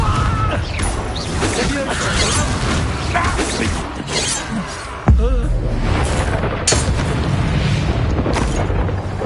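A Confringo blasting spell goes off in Hogwarts Legacy, a sharp booming burst about midway that lands amid dense, continuous game noise of crackling and rumbling effects, with a voice talking over parts of it.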